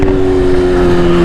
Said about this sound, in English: I want you guys to be able to hear the exhaust